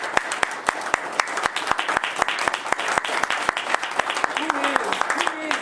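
An audience applauds a lecturer at a talk on Islam and Africa, with dense, sustained clapping and sharp individual claps standing out near the front, over a voice speaking.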